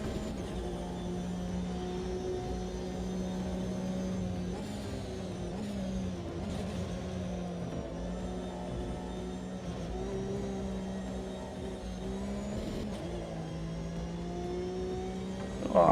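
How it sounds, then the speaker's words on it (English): The Ford Supervan's engine in a racing game gives a steady droning whine with strong sustained tones that shift slightly in pitch, holding close and constant with no talking over it. "That Ford Super van thing, it just makes the weirdest noise."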